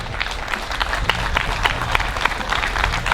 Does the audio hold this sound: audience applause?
yes